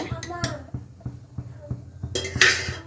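Metal dishes and pots being washed clatter and clink in quick, irregular knocks close by, ending in a brighter burst of clanging.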